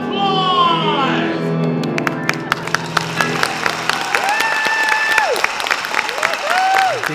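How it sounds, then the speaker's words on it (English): A thunderous applause sound effect from a smart speaker bursts out at a theatre. Dense crowd clapping runs throughout, with sharp whistles and cheers rising over it. A brief tonal voice is heard at the start. "Alexa, thunderous applause!"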